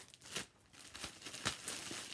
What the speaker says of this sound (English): Let's go ahead and take the plastic off.